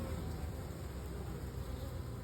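A swarm of honeybees gathered on a cold day buzzes as a dense, steady hum, faint and continuous, with background noise from passing vehicles.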